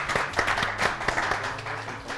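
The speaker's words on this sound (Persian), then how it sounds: "تشویقشان بکنید" Studio audience applause on a quiz show, a short round of fairly close clapping with distinct claps over a low background hum.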